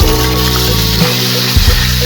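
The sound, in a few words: onions added to hot spiced oil, sizzling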